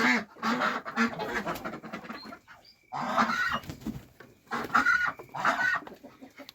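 Young roosters and hens clucking in a farmyard coop, several birds calling in bursts close by with short pauses between, fairly loud and with no talk.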